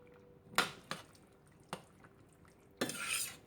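A spoon stirs creamy cilantro sauce for vegan pollo a la criolla, a few soft wet scrapes and clinks against the bowl, then a longer squishy stir, close and quiet.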